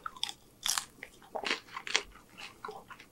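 Crunchy lumpia from L&L Hawaiian BBQ is bitten and chewed close up, giving a quick series of sharp, crisp crunches at an irregular rhythm, with no talking.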